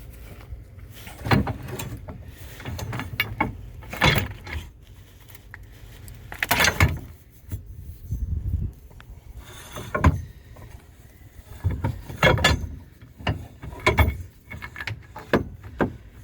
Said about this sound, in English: hopefully I can slide this drive shaft all the way to the front